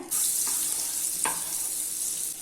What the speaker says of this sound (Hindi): अभी इसमें 1 चम्मच ऑयल ऐड कर लेना है और 1 चम्मच बटर ऐड कर लेना है। बटर को मेल्ट होने देना है।